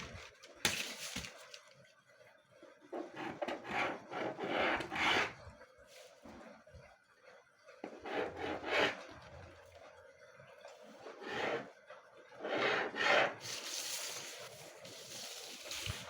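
Marker or chalk drawn across fabric while marking a blouse pattern, soft scratchy strokes coming in separate bursts of a second or so, close and quiet with pauses between them.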